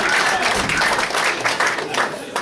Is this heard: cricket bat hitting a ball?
no